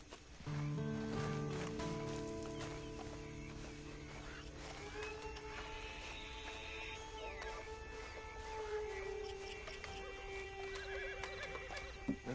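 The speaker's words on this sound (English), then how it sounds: "And you better get on this horse." A horse whinnies loudly in Red Dead Redemption 2, a long shrill neigh with wavering pitch, followed by softer snorts and breathy nickering over quiet outdoor game ambience.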